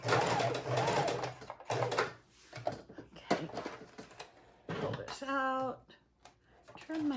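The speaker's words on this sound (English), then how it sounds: "we're going to sew these down real quick" A sewing machine stitches scrapbook paper and cardstock in short runs, its motor whirring on and off between pauses, with a voice talking in places.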